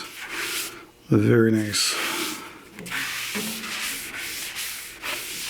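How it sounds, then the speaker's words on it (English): Cloth rubbing denatured alcohol onto turned mystery wood, a close scuffing wipe in repeated strokes, with a brief voice speaking over it partway through. "let me get some denatured alcohol and wipe it on there"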